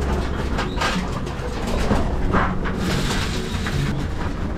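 Pigeons in a loft aviary give soft, low cooing calls over a steady mechanical hum and room noise, the coos faint and scattered rather than continuous.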